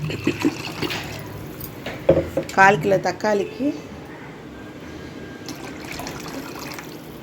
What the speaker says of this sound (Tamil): இப்போது அதுக்கு தேவையான அளவு தண்ணி ஊற்றிடுவோம்